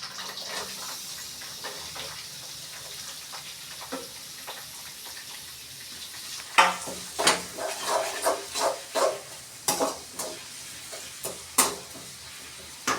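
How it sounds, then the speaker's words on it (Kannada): Chopped onions hitting hot oil in a pan while cooking egg and fenugreek-leaf palya, a steady low hiss at first, then a run of sharp, bright sizzling bursts and stirring scrapes close by, with no one talking. "ಬನ್ನಿ, ಈರುಳ್ಳಿಯನ್ನು ನಾನೀಗ ಬಾಣಲೆಯಲ್ಲಿ ಹಾಕ್ತಾ ಇದ್ದೀನಿ."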